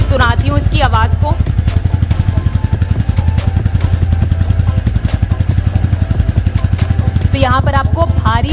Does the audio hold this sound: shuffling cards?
no